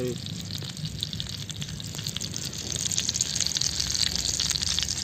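Butter melting and sizzling in a hot pan at a roadside spot before snails are added, a continuous watery crackle with a voice talking over it.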